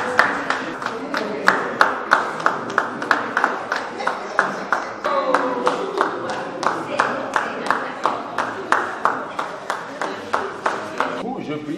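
Steady rhythmic clapping by a couple at their civil wedding ceremony, sharp regular claps repeating about twice a second throughout with voices murmuring underneath.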